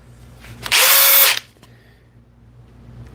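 A scratched-up, heavily used DeWalt DCF860 impact driver fires one loud, close burst lasting under a second, then cuts off to a quiet background.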